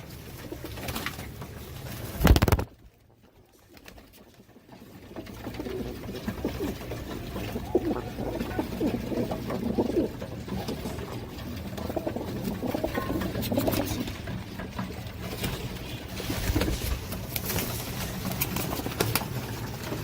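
Pigeons kept by a Pakistani fancier of dub-walay (tail-fanned) breeds coo softly and steadily across the scene, with a sharp knock near the start followed by a brief hush.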